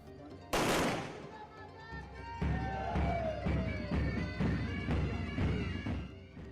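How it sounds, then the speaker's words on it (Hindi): Soldiers fire guns into the air at a parade ground as a traditional ceremonial salute to the goddess: one loud sharp report, then a run of quieter rhythmic bursts from a short distance away. "जवानों ने हवाई फायरिंग करके मां को परंपरागत सलामी दी।"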